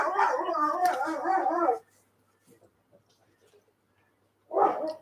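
A dog vocalises in the morning with a drawn-out howling, whining bark for nearly two seconds, then silence, then another short bark, fairly close and loud.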